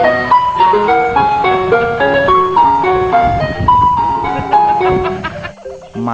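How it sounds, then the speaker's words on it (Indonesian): A bright, tinkling ice cream truck jingle plays its repeating melody loudly and continuously, close by, with faint road noise underneath. "Di sini ada mobil es krim."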